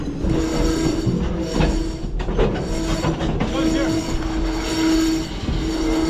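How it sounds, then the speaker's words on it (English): A slow train rolls past on rails with wagons, a loud, close, continuous rumble with clanking and brief wheel squeals. "The train is going so slow, so we're gonna like jump out, let it roll by, and try to catch it on the fly."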